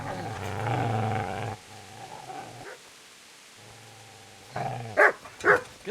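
Dog barking and growling in the medieval game Kingdom Come: Deliverance, a low rumbling growl at first, then quieter snarls and two sharp loud barks near the end, with no talk.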